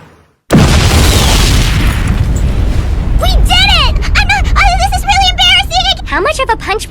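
A heavy booming blast from Mark III grenades bursts suddenly and rumbles on for several seconds, loud and close, while excited voices and shouts rise over the roar.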